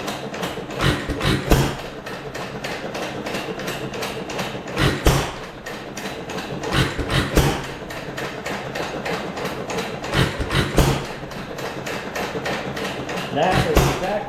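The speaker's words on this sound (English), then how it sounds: "That is exactly how that motor should run." A 1925 Wizard 1.5 hp gas engine runs with uneven rhythmic chuffing and sharp knocking bursts, close and fairly loud.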